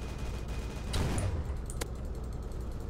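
An anti-vehicle turret fires in the Base Wars game, a couple of sharp shots ringing out over a steady background hum.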